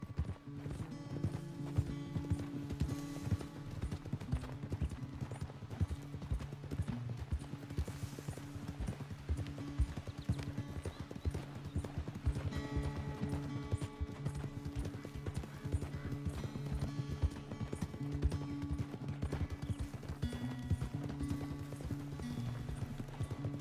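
Horse hooves clip-clop in a steady trotting rhythm, close and continuous, over a low ambient hum in the video game Red Dead Redemption 2.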